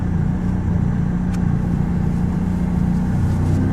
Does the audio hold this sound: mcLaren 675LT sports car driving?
yes